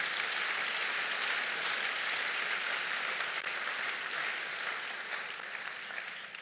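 A church congregation applauds at a New Year's Day service: dense, sustained clapping and cheering fill the hall, tapering slightly toward the end.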